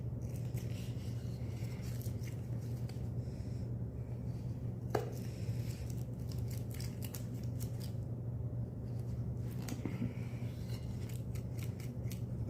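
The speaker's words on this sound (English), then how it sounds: "I use chisels, so just kind of go in there" Chisels cut a hole through the handle of a green-wood spoon in repeated short, crisp slicing and scraping strokes, with one sharper snap midway, close and fairly quiet.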